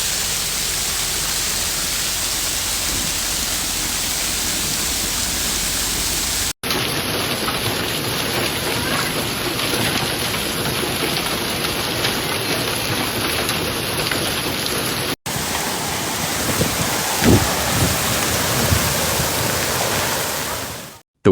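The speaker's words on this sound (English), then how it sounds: "Footage shared by X-User shows heavy rain and hail" Heavy rain with hail pounding down during a storm over the Fountain Hills area near Phoenix, Arizona, a dense, steady hiss with no voices, continuing through two abrupt cuts and ending in a sudden drop-out.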